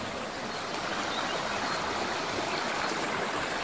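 Steady rushing water from a waterfall, a constant broad hiss and roar heard at moderate distance, with no voices.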